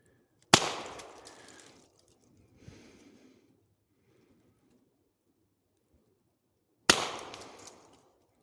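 A Pistelle X-68 non-lethal launcher fires at a NoCry UltraShield face shield: two sharp, loud pops several seconds apart, each followed by a brief rattling clatter of the impact, with a faint softer rustle between.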